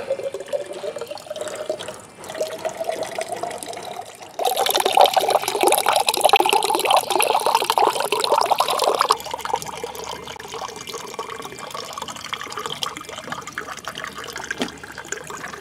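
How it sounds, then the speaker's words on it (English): Water pours from a water cooler into a small cup outdoors, a continuous splashing stream that grows louder and fuller midway, then settles to a quieter trickle. "Got my water cooler."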